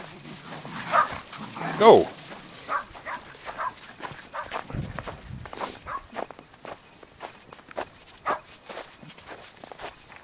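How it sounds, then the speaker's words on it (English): Dogs running and scrambling through snow on a closed mountain highway, crunching footsteps with brief barks and yips nearby, while a person speaks. "I got three little pups and one not so little pup."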